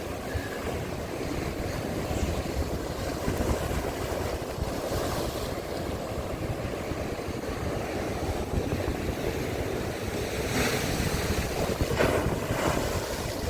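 Powerful storm waves surge and break on the Arkadia shore in Odesa, a constant dense roar of churning surf and wind buffeting the microphone, with a few louder crashes rising near the end.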